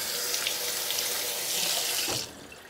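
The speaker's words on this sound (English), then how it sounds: "So let's go ahead and get this rinsed off." Tap water runs steadily over a natural whetstone being rinsed, a constant close hiss and splash for about two seconds before it cuts off.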